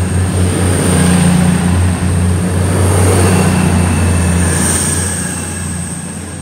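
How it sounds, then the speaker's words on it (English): An East Midlands Railway train runs through East Midlands Parkway station at speed without stopping, making a loud, steady roar with a deep rumble and a high whine that holds throughout, then eases slightly near the end. "The train now approaching platform one does not stop here."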